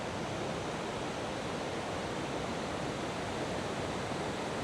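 Rushing water at Rhaeadr Ddu, the Black Waterfalls, makes a steady, unbroken roar of white noise with no voices.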